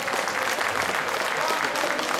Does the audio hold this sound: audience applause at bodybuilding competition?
yes